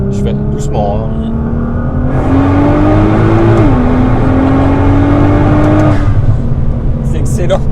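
A 2010 Nissan R35 GT-R with its 3.8-litre twin-turbo V6 pulls gently from inside the cabin, its engine note climbing steadily and then easing, under a steady drone and occasional French talk.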